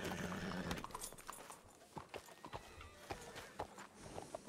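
Horse hooves clip-clop in RedM, a Western roleplay game, as a horse walks along in a series of irregular sharp knocks after a louder opening burst. Faint voices can be heard in the background.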